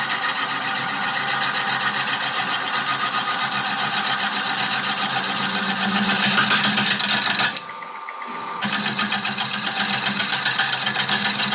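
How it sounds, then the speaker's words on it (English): A wood lathe runs steadily while a gouge takes a shear cut on its long edge at a woodturners' meeting, giving a loud continuous whirring drone that drops briefly partway through before resuming. "The tool rest while the lathe is running. I'm taking that shear cut again, angle down low, the long edge cutting."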